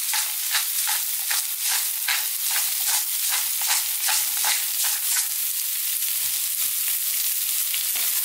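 Pork stir-fried in a Chinese wok over high heat for sweet and sour pork makes a steady loud sizzle, broken by rhythmic bursts as the meat is tossed and scraped around, close and continuous with no speech.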